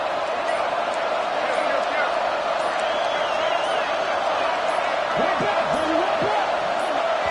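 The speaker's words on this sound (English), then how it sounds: "with this place rocking, the crowd forces a false start" A packed college football stadium crowd at a Florida at Baylor game roars in a steady, dense wall of noise throughout, with a voice briefly rising over it near the end.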